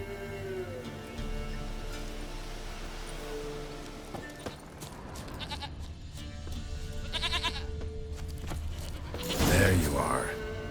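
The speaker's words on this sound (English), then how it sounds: "Here, goat." A goat in The Witcher 3 bleats near the end, loud and close, after hoof clops and footsteps, while someone talks over the ambience.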